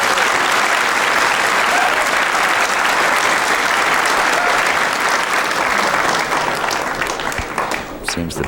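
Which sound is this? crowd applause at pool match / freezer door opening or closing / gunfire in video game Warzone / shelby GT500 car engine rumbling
crowd applause at pool match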